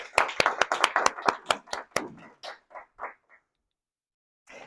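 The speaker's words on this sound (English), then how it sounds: "we deserve a round of applause" Small audience at a Toastmasters club meeting clapping briefly: a handful of sharp, separate hand claps that thin out over about three seconds and then fall silent.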